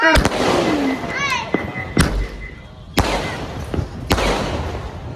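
Diwali firecrackers explode in sharp, loud bangs roughly once a second, with a whistling rocket trailing among them and voices in the background.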